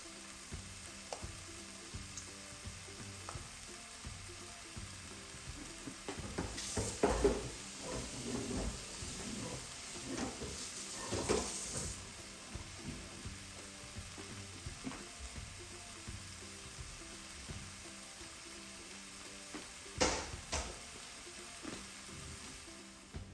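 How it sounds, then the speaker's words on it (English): Garden tomatoes blanch in a pot of boiling water on the stove, a continuous bubbling hiss with scattered clatter and knocks from the pot, fairly faint and steady, with no voices. "Okay, so let's turn the boiling water off."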